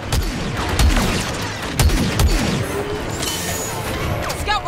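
Blaster gunfire in a Star Wars Battlefront 2 campaign battle, with several loud booming shots and rapid bursts spread across the span, mixed with clattering impacts and some voices in the background.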